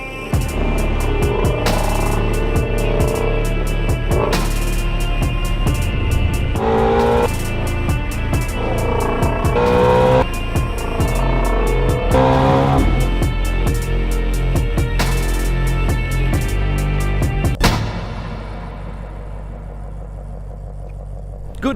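A 2020 Ford Mustang Shelby GT350 drives with a deep, loud rumbling engine drone mixed with thumps and road noise, then drops away abruptly near the end.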